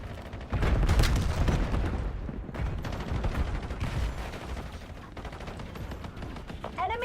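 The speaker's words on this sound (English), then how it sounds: "Enemy sniper shooting." Gunfire in the video game Black Ops 7: dense, loud bursts of shots with booming low end, sustained across the clip with a short dip midway, game voices faintly mixed in.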